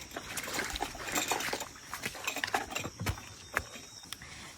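A small mossy stream trickling, a soft continuous wash of water with scattered splashes and drips, close by and fairly quiet, with no one speaking.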